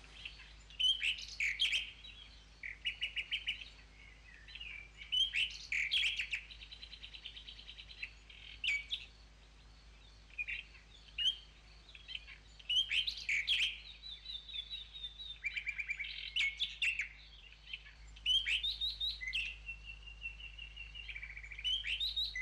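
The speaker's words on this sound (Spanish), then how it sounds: "El águila calzada que se dispara y pone una nota dramática en la primavera del bosque." Calls of a booted eagle in a spring forest, with repeated high bird calls coming in bursts throughout, fairly clear over a quiet background hum, with faint insect sounds underneath.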